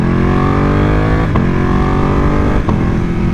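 A Ducati motorcycle engine drones loudly and steadily while riding on the road, holding a rich harmonic note that rises slightly, with two brief gear-change dips.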